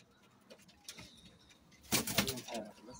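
Soft cooing from about year-old rooftop pigeons close by, a few low murmuring calls building to a fuller burst near the end, quiet overall.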